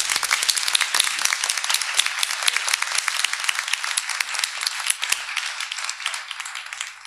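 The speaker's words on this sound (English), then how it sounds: "Let's give them another round of applause, folks." Audience applause fills a school board meeting, a dense, steady wash of clapping from many hands that carries on throughout before thinning slightly at the close.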